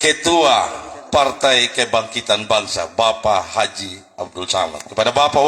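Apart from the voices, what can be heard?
No everyday noises stand out.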